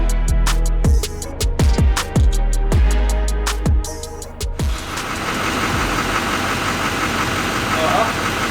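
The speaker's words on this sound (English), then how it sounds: "So this is my 2015 High Country 2500 Duramax" A 2015 Chevrolet Silverado High Country 2500 with a Duramax diesel engine, heard as a series of sharp knocks or clunks before settling into a steady low diesel idle, with someone talking over it.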